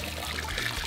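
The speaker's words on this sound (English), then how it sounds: "Water splash party!" Water splashes and sloshes continuously over a toy car being washed in a box challenge, a brief close watery rush with no talk.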